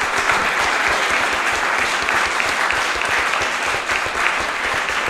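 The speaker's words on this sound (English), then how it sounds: "give a great big round of applause to our panellists" An audience at a film screening discussion gives the panellists a long, even round of applause, dense clapping that stays loud and steady from start to finish.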